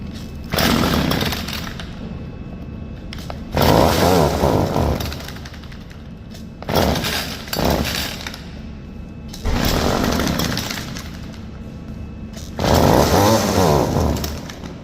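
A small petrol engine with newly replaced fuel lines starts and runs, revving hard in loud, buzzy bursts of a few seconds, dropping to a rough idle between them.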